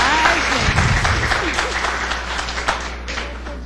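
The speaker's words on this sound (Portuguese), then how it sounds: "Salva de palmas para Cláudia." A lecture audience at a spiritist group applauds a speaker with dense, sustained clapping that fades slightly toward the end. A voice is briefly heard near the start.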